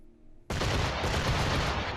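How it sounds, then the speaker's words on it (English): Frigate cannons firing in the Assassin's Creed IV: Black Flag naval battle, a sudden loud broadside eruption after near silence that becomes a sustained, dense rumble of overlapping blasts. "And of course the frigates fire first, because they're smaller, faster ships."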